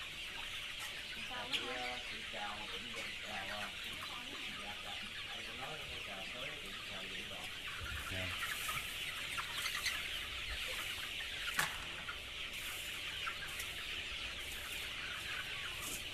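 Young chickens on a biological deep-litter floor cluck and cheep continuously in a crowded flock, with one sharp louder call standing out and a voice talking over them.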